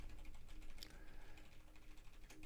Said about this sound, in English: If you hear the clicking, it's me hitting F8